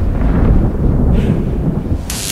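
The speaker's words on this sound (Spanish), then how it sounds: "¡Martillo de las tormentas!" A storm hammer strike in South Park: The Stick of Truth lands with a loud, rumbling thunderous boom that rolls on without a break, close and heavy, and ends in a brief hiss.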